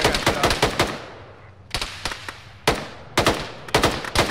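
Video game gunfire hitting the player arrives in loud, rapid automatic bursts, with three or four clusters of sharp cracks separated by brief decaying gaps.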